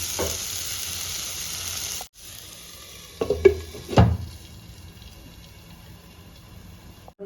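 Tomatoes sautéing and being stirred in a pan for Tamil pepper chicken (milagu varuval): a steady sizzle cut by a brief pause, then a few louder scraping stir strokes before the frying settles back, with no talking.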